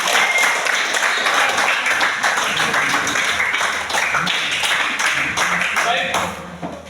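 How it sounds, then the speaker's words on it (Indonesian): Classroom applause, a continuous dense patter of many hands clapping at close range for several seconds before tapering off at the end, with voices mixed in. "mari kita berikan tepuk tangan"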